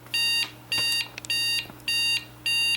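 An electronic power supply beeps five times in a steady repeating pattern, each beep a shrill tone of about a third of a second separated by short gaps, loud and close over a low electrical hum.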